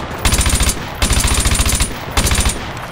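An F2000 rifle fires in Call of Duty: Modern Warfare 2, three rapid automatic bursts of close, loud, sharp shots separated by brief pauses.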